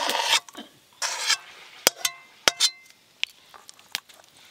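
Cooked pointed gourd is scraped and poured out of a pan, with a few bursts of rough scraping followed by sharp metallic clinks and taps of utensil against cookware, close and fairly quiet.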